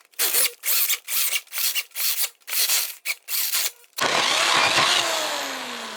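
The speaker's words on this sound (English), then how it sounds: "Is this drill suited to drive 1-inch paddle bits, self-feeding paddle bits?" Cheap Hyper Tough corded drill driving a 1-inch self-feeding paddle bit through lumber, a series of loud, choppy rasping bursts with brief gaps, then one long continuous grinding whir.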